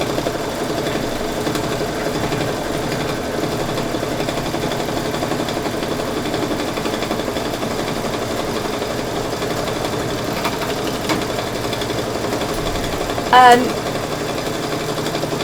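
An embroidery machine runs a satin stitch, a steady close mechanical hum and rapid needle chatter continuing throughout, with one brief louder clunk near the end.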